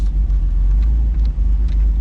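A car engine runs steadily on stale, old fuel, a loud, close, continuous low rumble with slight uneven pulsing and no talk.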